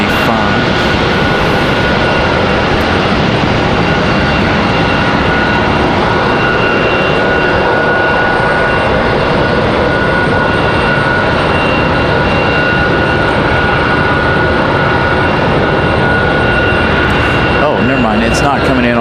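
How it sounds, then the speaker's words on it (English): Engines of a Delta Connection Embraer E175 jet at Raleigh-Durham airport, heard as a steady broad roar and whine from outdoors throughout, with a person talking over it. "So we got a Delta connection pushback here."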